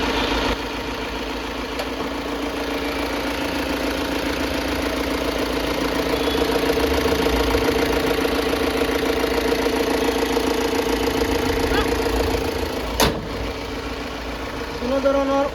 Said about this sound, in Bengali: গাড়ির ইঞ্জিন দেখিলাও, ইঞ্জিন